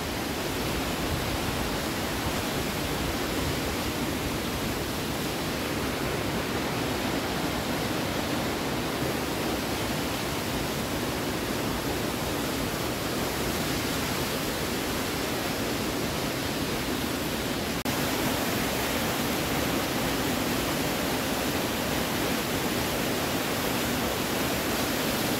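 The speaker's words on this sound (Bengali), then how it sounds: "খুব সুন্দর ফল, প্রচুর জল, ফল ওই মাথার থেকে নামছে।" A waterfall at Katao in North Sikkim pours heavy water down from above, a constant loud broadband rush with no breaks, steady for the whole span.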